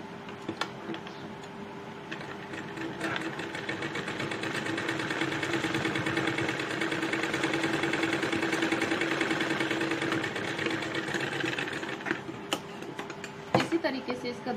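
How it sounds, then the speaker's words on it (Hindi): A sewing machine runs steadily as it stitches lace onto a fabric sleeve, a continuous whirring hum with faint rapid ticking that fades near the end, ending in a few sharp clicks. "हम सिलाई इस तरीके से लेस लगाएंगे"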